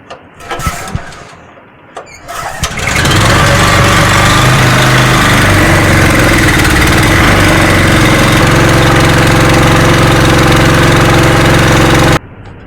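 A tractor engine cranks over and catches, then settles into a loud, steady running drone that continues close by before cutting off near the end, with no talking over it.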